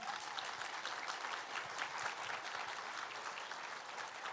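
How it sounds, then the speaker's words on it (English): A convention crowd at a fan-con Q&A gives a round of applause, steady continuous clapping from many hands, even and sustained, heard at a distance with no speech over it. "Let's give him a round of applause, everyone"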